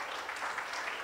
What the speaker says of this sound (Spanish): nos aplaudimos.